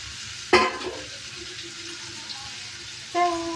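Grated raw mango for thokku is added to a hot pan with asafoetida and stirred, giving a sharp sizzling hit, a soft crackling fry underneath, and a second sizzle burst near the end.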